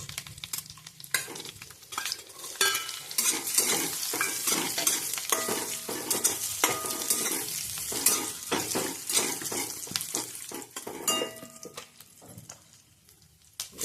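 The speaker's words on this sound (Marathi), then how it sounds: "तुपामध्ये हे ड्रायफ्रूट सगळे भाजून घ्यायचे" Dry fruits roasting in ghee for traditional khapli wheat kheer, with steady sizzling and frequent scraping stirs of a utensil against the pan, busy and close throughout with no voices.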